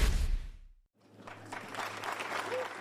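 Farewell applause for departing US Attorney General Jeff Sessions, a burst of clapping that cuts out briefly, then resumes as a steady, moderately loud patter with a faint voice under it.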